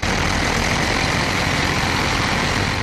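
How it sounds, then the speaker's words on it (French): Construction vehicles at a stadium building site in Bafia give off a loud, steady engine rumble, heavy and broadband, running without a break before cutting off at the end. "les populations sont déjà habituées au vrombissement de moteurs"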